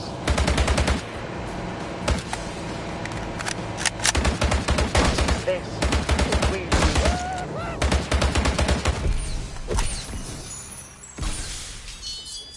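Automatic rifle gunfire comes in rapid, loud bursts, some with glassy clinks and shattering. It is broken by short pauses and ends with a few scattered shots.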